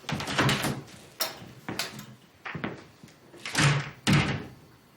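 A door in a hospital office closes with several separate thuds and bumps at close range, with no talking.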